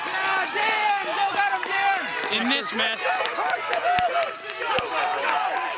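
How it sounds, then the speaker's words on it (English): An excited crowd at a boys' cross-country championship race in New England yells and cheers loudly and continuously close by, with a voice speaking over the din. "You can hear the absolute excitement of the crowd."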